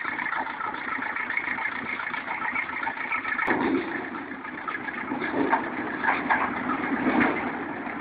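A Ural timber truck's engine runs steadily while crossing frozen land and rivers, a continuous mid-pitched drone with slight surges, fairly loud and close, with no voices.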